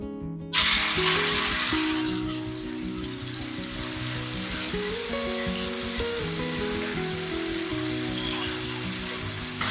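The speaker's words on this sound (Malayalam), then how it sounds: "ഞാനിത് തിരിച്ചിട്ട് ഞാനിത് അത്യാവശ്യം നന്നായിട്ട് തന്നെ ഫ്രൈ ചെയ്തെടുക്കുന്നുണ്ട്" Pearl spot fish (karimeen) coated in masala frying in hot oil in a home kitchen, a loud sizzle bursting in at first then settling into a steady crackle, with clattering utensil sounds underneath.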